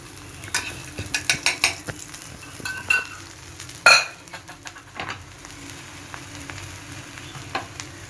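Besan chila cooking in a pan with a few drops of oil, a steady sizzle broken by scraping and stirring clatter from a utensil, with one loud sharp clink partway through.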